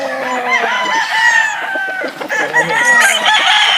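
Rooster crowing on a gamefowl farm in San Jose, Tarlac: a close, loud crow followed by clucking and a second crow, with faint talk in the background.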